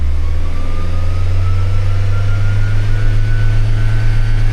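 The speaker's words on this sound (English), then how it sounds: "Let's go ahead and give it some RPM." Engine of a used junkyard-quality car held at raised RPM, a steady loud mid-low drone with a slowly rising tone across the whole stretch, no talk over it.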